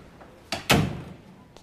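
An office door swings shut with a light click followed about a fifth of a second later by a heavy, close wooden thud that fades into quiet room tone.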